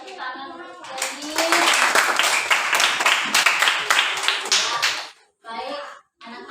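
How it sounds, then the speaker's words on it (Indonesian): Schoolchildren in a classroom clap their hands together in a quick, rhythmic burst lasting several seconds, with children's voices heard before and after the clapping. "Kita tepuk tangan untuk Jenny."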